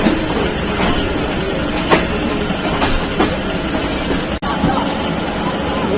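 A train rolls through the Lahore railway station yard in Pakistan, a loud continuous rumble with rhythmic clicks of wheels over rail joints and hissing, under a background murmur of voices.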